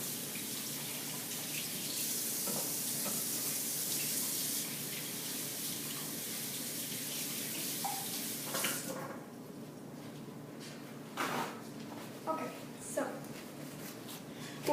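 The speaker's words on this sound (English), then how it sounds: "You want to wash your hands always so that your germs don't get all over their food." Water runs steadily from a tap for about nine seconds, a broad hiss of hands being washed under the flow, then cuts off, leaving faint drips and small handling sounds in a quieter room.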